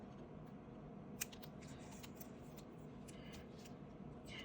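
Paper for a scrapbook layout is trimmed in a quiet room, with one faint sharp snip followed by soft light scraping and rustling sounds.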